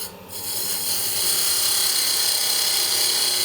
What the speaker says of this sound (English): I'm going to take my parting tool here and get rid of that excess